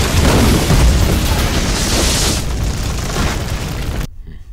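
A missile explosion in a video game, a loud, sustained, roaring boom that fills the clip and then cuts off abruptly near the end, with no talking.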